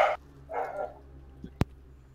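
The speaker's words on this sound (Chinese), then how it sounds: "全部被汪汪汪盖住了。" A dog barks in Minecraft, two short clustered yelps a moment apart, moderately loud over a quiet low hum, followed by a sharp click.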